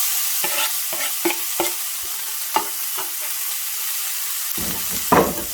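Onion and half green and half red bell peppers hit hot oil and fry with a constant sizzle, punctuated by several sharp stirring taps and scrapes in the pan, with no talking.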